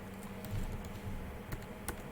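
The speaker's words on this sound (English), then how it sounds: "Keep wrongly typing this" Quiet, close typing on a computer keyboard while entering HTML code: scattered soft key taps with a couple of sharper clicks near the end, no voice.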